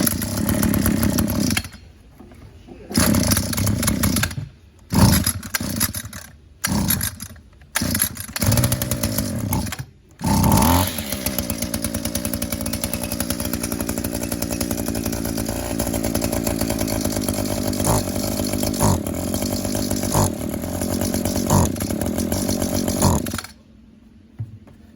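An Echo two-cycle weed trimmer is pulled over with a few short bursts, then fires up and runs at a steady, loud, buzzing idle for about twelve seconds before cutting off abruptly.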